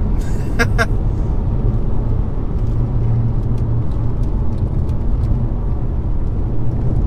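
A 2013 Mercedes C350 diesel accelerating on the road, its engine a steady, loud, low drone mixed with road noise, with a couple of brief clicks near the start.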